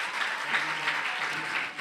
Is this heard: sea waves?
no